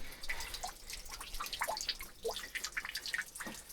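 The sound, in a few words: water seeping and dripping from rock at fort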